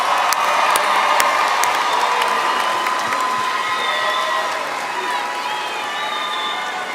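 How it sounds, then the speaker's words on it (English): A large graduation crowd at a Texas State University commencement ceremony applauds and cheers, a dense sustained roar of clapping with whoops and shouts filling the hall throughout. "give them one more round of applause"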